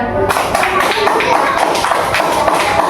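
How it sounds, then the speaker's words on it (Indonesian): Pupils in a class clap their hands for a group, a busy, close burst of overlapping claps and shuffling, with a few voices mixed in. "Oke, tepuk tangannya."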